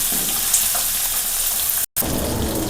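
Shallots sautéing in a pan for Kerala-style egg thoran give a steady, close sizzle with faint stirring, broken by a brief moment of silence near the end.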